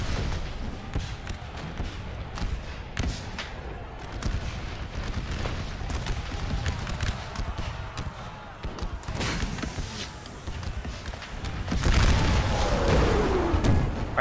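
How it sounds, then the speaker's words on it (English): Cannon fire and shell explosions in Napoleon Total War on a Gettysburg Civil War battle map, repeated heavy booms over ongoing battle noise, swelling into a louder barrage near the end. "Artillery is doing an excellent job hitting this position."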